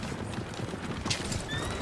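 Horses in Red Dead Redemption 2 clopping along with hooves thudding steadily, a whinny rising briefly near the end over a busy in-game background.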